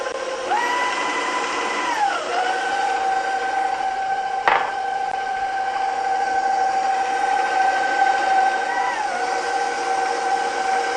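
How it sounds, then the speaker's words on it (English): An electric mixer beats softened butter and sugar for a rainbow cake, a steady close motor whine that dips and shifts pitch as the speed changes, with one sharp click midway. "now I'm going to add the sugar, and we're going to beat this together"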